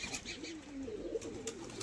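Pigeons kept at a friend's house coo softly in a low rolling murmur, a few short calls over about two seconds, fairly faint, with no talk.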